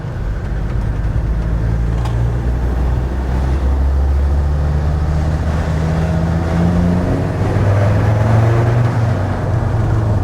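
A Land Rover Defender Td5 110 diesel fitted with a GTB450 turbo and big wheels and tyres revs under load, a loud continuous low drone that climbs steadily in pitch, close and alone.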